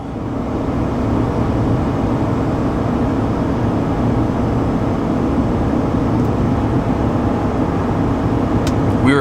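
A GMC Sierra 1500 pickup with its 5.3L V8 tows a heavy load up a 6% grade, producing a steady, loud low engine drone and road rumble that holds constant throughout without a break.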